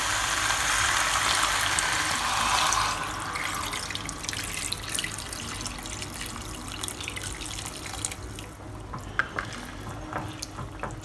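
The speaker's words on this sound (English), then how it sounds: "Adding 1 liter of water." Water poured from a tap-like stream into a pot of Singapore curry chicken with potatoes, a steady rushing splash that softens midway into lighter trickling and a few drips near the end, with no talking.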